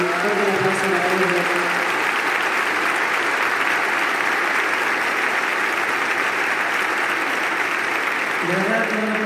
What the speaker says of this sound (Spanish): dirigida por el señor Alberto Valdivia, fuerte un aplauso para él.